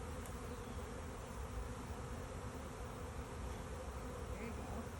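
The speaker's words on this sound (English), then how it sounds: "There goes Miss Chisholm shaking the bees" Dense, steady buzzing of many honeybees as a beekeeper shakes them from a hive frame, a continuous close drone with no talking.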